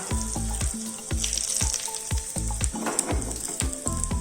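Mustard seeds pop and splutter in hot oil with dried red chillies added, a rapid series of sharp crackles over a steady sizzle, close and fairly loud.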